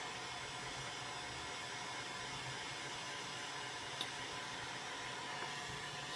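A hot air tool blows a steady, even rush of air across capacitors on a Macintosh Plus logic board while they are heated one spot at a time, broken only by a single faint click.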